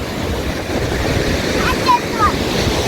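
Sea waves at Snehatheeram beach roar as a steady, loud wash of surf with wind buffeting the microphone, and faint voices briefly rise over the noise.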